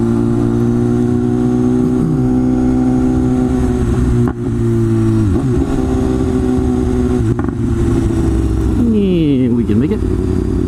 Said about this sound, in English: The problem is I can't just sit here and stare at my goddamn phone because I'm on a fucking motorcycle.